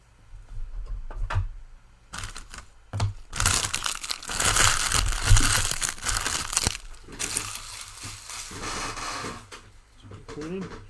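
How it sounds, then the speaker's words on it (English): NFL Panini Certified trading cards are handled and tucked away, with bursts of crinkling, rustling and plastic crunching, fairly close and uneven, with a voice briefly underneath. "let's get these cards tucked away."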